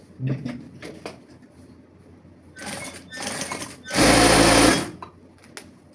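A sewing machine topstitches pyjama fabric in short bursts, a few brief runs followed by one longer loud whirring stretch, close and alone with no talking.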